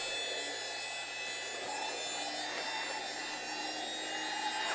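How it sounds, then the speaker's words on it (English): A vacuum cleaner draws air through the interior of a vintage Louis Vuitton bag, giving a steady, close, high-pitched whine with a faint buzzing hum that holds unchanged throughout. "Vacuuming out the interior before before I go in to clean it."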